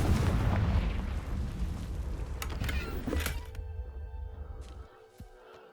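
Confringo fire spell explosion in Hogwarts Legacy, a heavy booming blast with rumbling low end and crackling debris that decays into a quieter magical shimmer and fades near the end.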